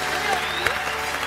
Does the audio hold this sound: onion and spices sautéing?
no